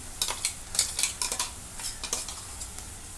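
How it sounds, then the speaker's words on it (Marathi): Ginger, garlic and coriander paste sautéing with browned onions in a pan, heard as a faint sizzle under a quick run of close spoon scrapes and taps that thin out toward the end. "जी पेस्ट आहे आता ही पण मी भाजून घेते"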